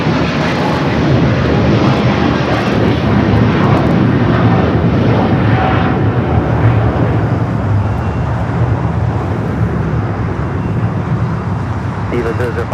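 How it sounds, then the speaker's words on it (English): EVA Air Boeing 777-300ER taking off from Los Angeles International Airport for Taipei, a heavy, rumbling jet roar that is loudest early and slowly eases, with some talking in the background. "EVA Air Flight 5 taking off to Taipei on the 777-300 ER."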